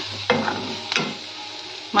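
Curry frying in oil in a pan while being stirred: close, loud scraping stir strokes at irregular intervals, about four in all, over a continuous sizzle.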